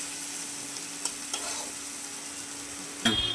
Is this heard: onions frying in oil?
yes